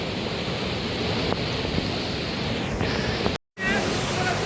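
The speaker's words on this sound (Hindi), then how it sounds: "तो जी ये आबशार है" A waterfall in Sharan forest near Naran drops from a great height, a loud, steady broadband roar that fills the scene, broken by a brief dropout near the end.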